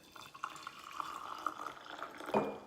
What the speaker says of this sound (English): Then we have the Japanese style. So in the kyushu, also pour it in here.